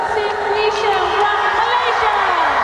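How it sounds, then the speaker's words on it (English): Loud arena crowd roaring and cheering at a SEA Games swimming final, a sustained wall of voices that swells and holds throughout, with a commentator talking over it. "here comes the biggest cheer of the night"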